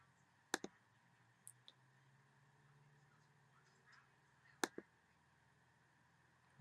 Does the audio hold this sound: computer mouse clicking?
yes